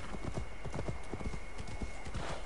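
A white horse gallops in the video game Assassin's Creed Valhalla, with rapid rhythmic hoofbeats close by and a brief whinny, steady and alone.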